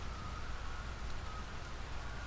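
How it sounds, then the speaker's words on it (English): Steady rain in the video game The House of Da Vinci, a constant even hiss with a faint tonal hum, with no talking. "Where it's raining."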